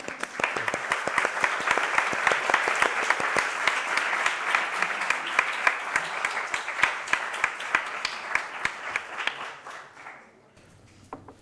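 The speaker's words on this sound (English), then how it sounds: "So now you can clap." An audience applauds at the end of an academic lecture on Asian studies, sustained dense clapping with individual sharp claps standing out, holding steady for about ten seconds before abruptly dying away.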